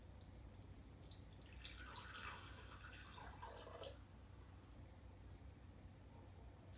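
A cup of water poured onto an overnight super heavy sanitary napkin gives a soft splashing trickle for a few seconds, then a faint quiet wash of noise.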